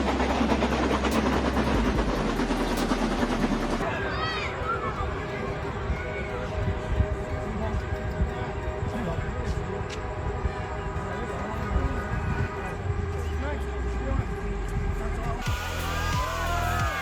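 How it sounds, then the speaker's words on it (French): A steam locomotive runs along the rails in a loud, continuous rumbling clatter with rhythmic pulses over about seventeen seconds, with abrupt changes in the sound and voices mixed in at times. "La locomotive à vapeur, un cœur qui bat au rythme de la révolution industrielle."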